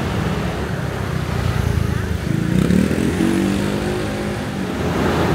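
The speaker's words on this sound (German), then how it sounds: "Man hört viel mehr den Verkehr, das ist unfassbar." Loud street traffic in Taipei, Taiwan, with cars and motorcycles passing and revving close by, a continuous roar that swells midway, while people talk over it.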